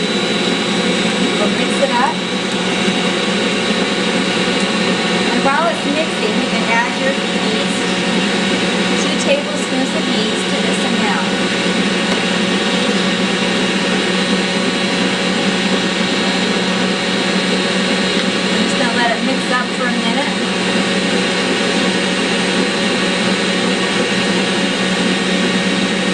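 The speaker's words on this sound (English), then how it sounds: "We'll turn our Bosch on to just the first speed. We'll mix it up." A Bosch stand mixer runs on its first speed, mixing bread dough with flour. It makes a loud, constant whirring motor drone throughout, with faint knocking of the dough underneath.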